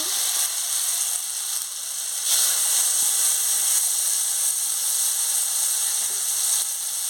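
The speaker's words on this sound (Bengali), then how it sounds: "এবার আমি পোস্ত বাটাটা দিয়ে দিচ্ছি, দিয়ে ভালো করে ভেজে নিচ্ছি।" Poppy seed paste frying in oil in a wok: a steady, loud, close hiss of sizzling that carries on without a break, with faint scraping and clicks from stirring underneath and no voices.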